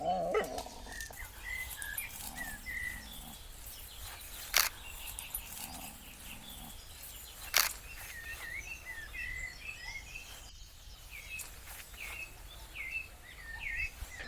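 Several dogs bark and yap at a distance outdoors, with a couple of sharper, louder barks standing out over steady background chatter and bird calls.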